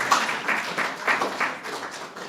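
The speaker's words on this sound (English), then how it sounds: "give yourselves a round of applause, please" An audience at a peace-principles session claps in a brief, moderate burst of applause that stays fairly even throughout.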